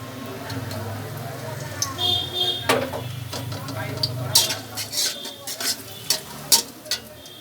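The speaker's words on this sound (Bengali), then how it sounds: "চুলায় আমি একটি কড়াই বসিয়ে দিলাম পরিমাণ মতো তেল দিয়ে দিছি এখন রসুন কুচিগুলো সব দিয়ে দিতেছি" Chopped garlic sizzles in soybean oil in a hot wok, a steady close frying hiss joined by sharp metallic taps of a spatula against the pan, with a voice speaking over it.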